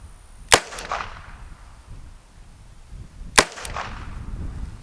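Two sharp, loud gunshots about three seconds apart from a Smith & Wesson 432 Ultimate Carry .32 H&R Magnum revolver firing Hornady Critical Defense 85 grain FTX rounds at an outdoor range, each crack followed by a short echo.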